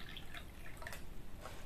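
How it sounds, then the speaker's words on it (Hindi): About two glasses of water are poured into a wok on a gas stove, making a faint, quiet trickle with small splashes and drips throughout. "इसमें हम 2 गिलास के करीब पानी ऐड करेंगे"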